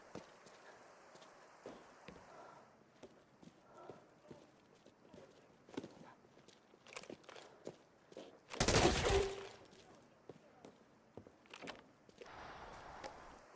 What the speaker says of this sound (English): AK headshots feel real nice